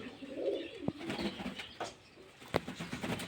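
Pigeons bathe together in water, with soft cooing and brief splashes and wing flutters close by, a couple of sharp flaps standing out over the busy low murmur.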